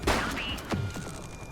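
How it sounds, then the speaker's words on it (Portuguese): Gunfire from a downtown police shootout after a bank robbery in the video game The Precinct: a loud, close burst of shots opens, followed by another sharp report and fading echoes. "We're downtown where police are engaged in a fierce shootout following yet another bank robbery."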